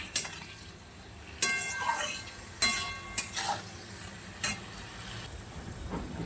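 A spatula stirs vegetables with turmeric in a pan over a gas flame, sharp scraping clanks every second or so over a faint, low sizzle.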